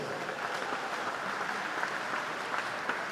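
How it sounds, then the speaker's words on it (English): Steady, even applause from the crowd at a swimming championship for a record-breaking S9 women's butterfly swimmer, a dense wash of many hands clapping continuously at moderate loudness. "Let's give her a big round of applause."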